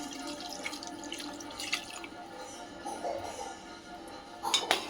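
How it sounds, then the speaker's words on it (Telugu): A glass of water is poured into a pan of cashew paneer masala curry, a faint splashing trickle with a few soft drips and a light clink of the pan near the end. "ఇప్పుడు ఒక గ్లాస్ వాటర్ పోసుకుందాం"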